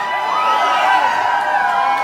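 A concert crowd at the Roxy Theater in Denver roars and cheers, a dense, steady wall of whoops and shouts with no pause.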